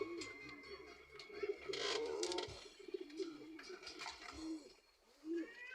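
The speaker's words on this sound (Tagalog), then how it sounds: "Kaka-4 na tayong ibon sa Jean Pomelo, si White Blight, si Pasaway, at si Pitex." Racing pigeons cooing at a loft, soft low rolling coos recurring a few times amid outdoor ambience, with faint voices in the background.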